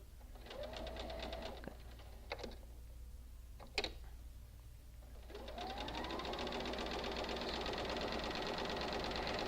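Sewing machine chain piecing quilt block pieces, running in steady rapid stitching bursts with a pause and a few clicks between runs, close and fairly loud with no talking.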